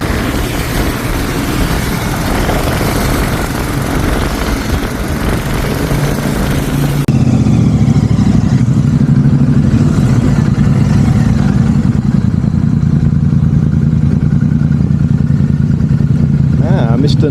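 A Royal Enfield Super Meteor 650 motorcycle with aftermarket exhaust, its 650 cc engine running loud and close with a steady, throaty low rumble, partly under talking early on.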